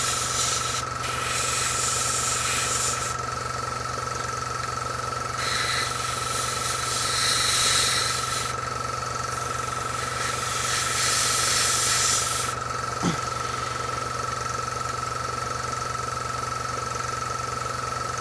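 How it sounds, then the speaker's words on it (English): An airbrush hisses in bursts of spraying tank camouflage paint on a model, several on-off stretches over a steady low mechanical hum, close and moderately loud. "should have mixed it more thoroughly before I started spraying"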